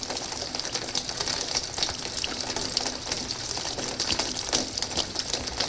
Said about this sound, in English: I'd probably have to go for rain